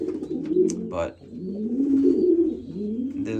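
Racing pigeons coo nearby in low, rolling phrases that rise and fade in repeated bursts, with a brief spoken word mixed in.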